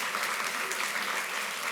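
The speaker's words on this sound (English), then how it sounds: "Give him a nice round of applause." An audience at a magic show gives a brief, dense round of applause, even and sustained for under two seconds, moderately loud and heard alone.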